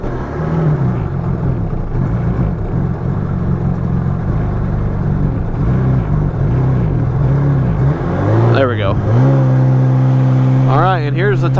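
1999 Sea-Doo GTX Limited jet ski engine running, a loud steady low rumbling drone that rises in pitch near the end, with a voice briefly heard over it.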